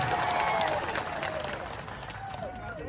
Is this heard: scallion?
no